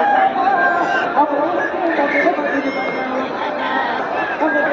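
Roosters at a large village fair with cockfighting, crowing faintly amid constant crowd chatter and voices, a busy outdoor hubbub throughout.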